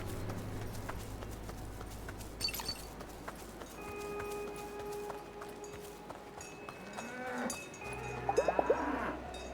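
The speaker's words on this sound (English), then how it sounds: "Best to leave the cows alone." Cows moo in the alpine village of the video game Dungeons of Hinterberg, a few drawn-out moos over clip-clopping hooves and soft ambient game music, with a sharper rising call near the end.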